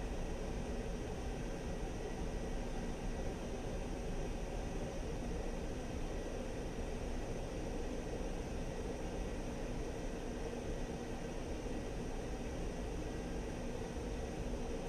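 A Sukhoi Su-25T jet taxiing toward the runway in DCS World 2.5, a steady whining engine drone with a broadband rush that stays even and unbroken throughout.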